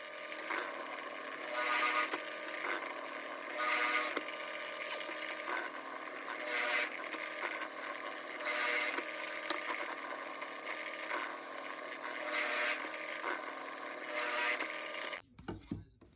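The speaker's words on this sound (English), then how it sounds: "The holes I'm drilling here are just to allow clearance for the head of the screw." A power drill bores clearance holes for screw heads in American white oak, whining in repeated steady bursts with short pauses between holes, close and alone.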